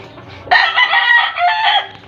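A rooster crows once in a long, loud, drawn-out call during cock-conditioning, rising sharply and holding before trailing off, with no talk over it.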